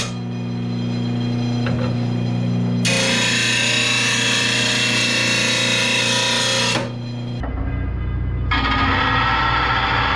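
High-lift short-tail lawn mower blades being sharpened back to a 30-degree angle with a power tool: a loud, steady grinding whine that shifts pitch several times as the blade is pressed and moved, with no talking.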